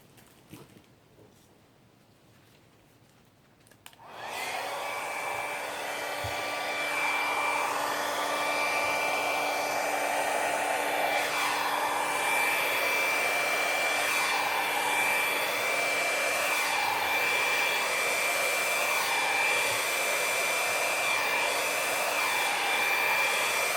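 A hair dryer blow-drying hair starts up after a few seconds of near quiet and then blows as a loud, continuous whine and rush, its pitch shifting slightly as it moves around the head, with no talking.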